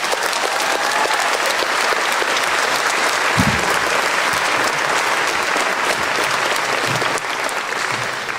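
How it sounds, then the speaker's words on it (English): Large audience at a Guam high school graduation ceremony applauding the parents, dense sustained clapping across the crowd, loud and even throughout with a slight drop near the end. "let's give a big round of applause for the parents"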